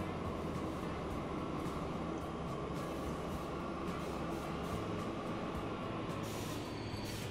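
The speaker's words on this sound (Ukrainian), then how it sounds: "Потяги. Парові." Steam trains run in the Transport Fever 2 game, a steady, loud rolling rumble of wheels and rail noise that continues evenly throughout with no pauses.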